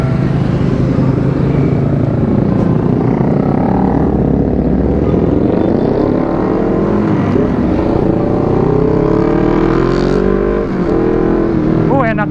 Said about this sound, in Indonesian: Naik CBR-nya si Ica